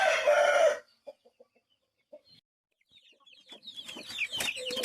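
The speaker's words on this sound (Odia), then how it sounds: "ଦେଖନ୍ତୁ ବଢ଼ିଆ କ୍ୱାଲିଟି କୁକୁଡ଼ା ଭାଇ ବହୁତ ବଢ଼ିଆ ରଖିଛନ୍ତି" Aseel chickens at a poultry farm, opening with a loud close rooster crow, then a few soft scattered clucks in near silence, building into a busy stretch of clucking and calls from several birds.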